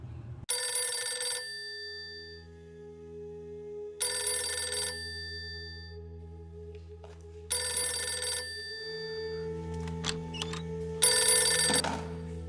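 Telephone bell ringing in a room, four separate bursts of loud, bright ringing spaced a few seconds apart, with a low steady hum beneath and faint movement between rings.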